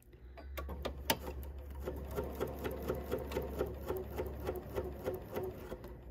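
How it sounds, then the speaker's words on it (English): A sewing machine runs a quilting stitch, slightly shorter than a regular straight stitch, while piecing a 1930s-style sampler quilt block. The needle taps fast and steady, close and clear, with no talk over it. "we're using our quilting stitch, which is a little smaller than a regular straight stitch"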